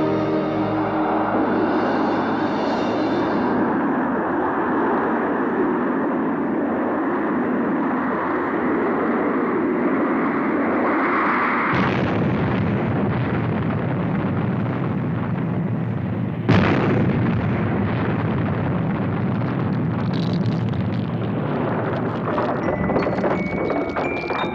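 Explosion impact from the Stingray puppet TV series: a long, loud, dense roar of blasts and rumbling, with abrupt surges around the middle and a sharp new burst later, sustained throughout with no talk.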